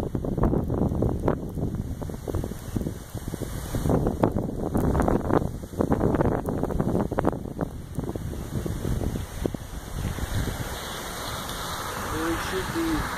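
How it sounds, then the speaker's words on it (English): Strong summer storm wind of about 25 mph buffeting the microphone in gusty, rumbling bursts, loud and close, with voices talking faintly at times. "That's gotta be like what, 25-mile-an-hour wind?"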